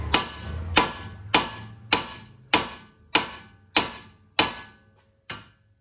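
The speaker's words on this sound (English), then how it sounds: "We're going to hit right here on the steering knuckle to break that tie rod free" A hammer strikes a 2012 Chevy Malibu steering knuckle nine times in a steady rhythm to free a tie rod end, each blow a sharp, ringing clang up close, with no talking.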